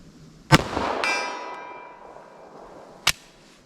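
Two sharp, loud handgun shots from a .45 ACP pistol fired at a target 75 yards away, the first followed by a ringing metallic ping and a lingering echo, the second coming alone a few seconds later.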